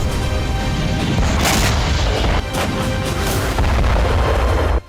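Artillery shelling in the war in Ukraine, a dense, loud barrage of booming blasts that merge into continuous rumbling roar for several seconds, with no voices.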